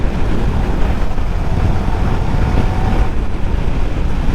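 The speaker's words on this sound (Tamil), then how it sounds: "விண்ட் பிளாஸ்ட் அப்படியே சில்லுன்னு இழுக்குதுங்க உள்ள" Loud, steady wind roar buffeting the microphone while riding, a constant rushing rumble with no speech.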